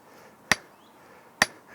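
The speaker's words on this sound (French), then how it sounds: "Le marteau rebondit. C'est un autre bruit, hein, plus sombre." A hammer strikes a block of serpentinite rock twice, each a sharp, loud, isolated impact about a second apart with a quick ringing decay, in a quiet outdoor vineyard setting.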